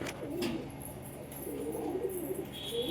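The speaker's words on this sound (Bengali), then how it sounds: "দেখুন ওই পায়রাগুলো সব ডিমে যাচ্ছে" Pigeons coo softly near their nests in a steady, low, rolling murmur that repeats throughout against a faint background hiss.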